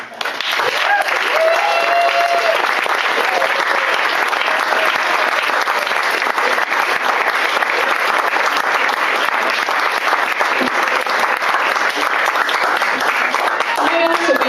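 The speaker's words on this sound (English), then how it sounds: "one more round of applause" Sustained crowd applause fills the room after a speech at a rally about the right to dissent, steady and dense for the whole stretch with a few faint voices and whoops mixed in.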